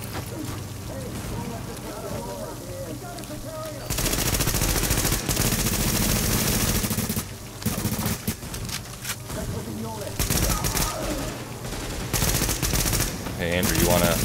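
Sustained automatic gunfire from a firefight in The Division, in loud bursts that start abruptly a few seconds in and keep going with short breaks, while players talk over it.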